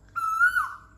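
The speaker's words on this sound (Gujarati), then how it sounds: "કોયલના ટહુકા સાથે." An Asian koel gives a single clear, rising, whistled morning call, fairly near and alone against quiet background hum.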